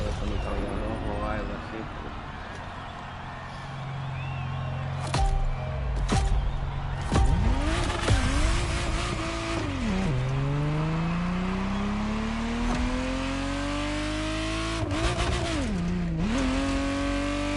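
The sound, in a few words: Ferrari Testarossa engine revving in the video game The Crew Motorfest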